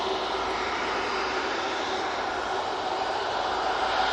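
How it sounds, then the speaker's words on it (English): A Cathay Pacific airliner inbound from Hong Kong approaches to land at Manchester Airport, its engines a steady, broad roar that holds loud and constant throughout, with no talking. "Next in, we do have the Cathay Pacific coming in from Hong Kong."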